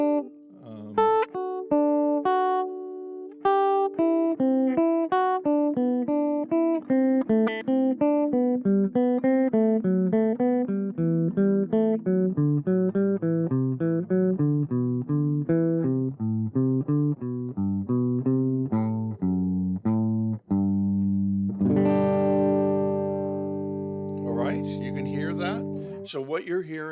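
Guitar playing triadic arpeggios up and down through the chords of a scale, a steady stream of clear single notes that climb and descend, closing on a strummed chord.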